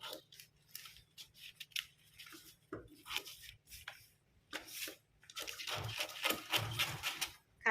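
Scissors snip through a paper sewing pattern, cutting out the neckline of a pointed shirt collar. The cuts are close and crisp, arriving as a run of irregular snips with paper rustling between them, and no one speaks.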